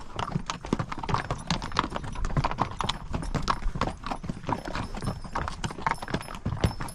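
Mules walking a rocky canyon trail, hooves clip-clopping in a steady, uneven patter close by, loud and continuous with no talk over it.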